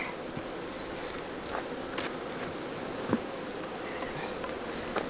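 Honeybees buzz in a dense, continuous drone from an open hive during an inspection, the swarm sound steady and close, with occasional soft knocks and rustles of handling the boxes.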